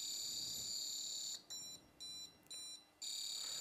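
Short electronic beeps from a Prodatec beam alignment device, sounding as gaps and returns in a continuous piercing high tone, clear and close with no voices.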